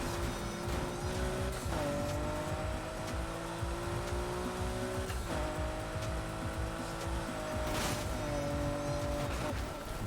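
A car in a racing video game drifts through a corner. Its engine drones continuously while the tires squeal in long, wavering tones, with several sharp shifts in pitch across the stretch.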